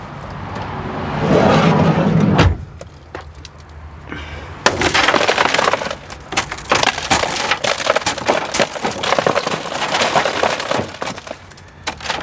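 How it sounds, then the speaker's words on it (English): A handheld car window breaker shatters a tempered glass car window with a sharp, loud crack, followed by a long run of crunching, crackling and tinkling as the glass falls apart into small pieces. "the tempered glass really, it's designed to break into a million pieces"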